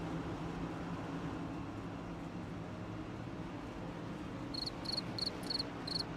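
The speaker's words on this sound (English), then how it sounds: "Crickets from Wesley." A cricket chirps as a sound effect, a short run of about five sharp, evenly spaced chirps near the end over a steady low hum, fairly faint, no talking.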